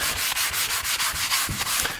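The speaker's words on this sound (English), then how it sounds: "just a little bit of our paint sanding off into the grain" Sandpaper rubbing paint off the edge profile of a wood grain surface, a steady run of repeated back-and-forth scratchy strokes, close and fairly loud, with no voices.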